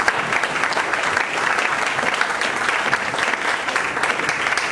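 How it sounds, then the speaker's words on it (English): Audience applause fills the room, steady dense clapping from a seated crowd after a talk at an LA2M gathering, continuous and fairly loud throughout with no break. "big round of applause."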